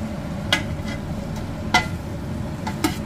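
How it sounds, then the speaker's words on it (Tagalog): Garlic and onion being stirred in a pan while they sauté, with a steady low sizzle throughout and three sharp, separate scrapes or clinks of the utensil against the pan. "Ito naman ang halu-haluin natin. So andyan na yung bawang sibuyas."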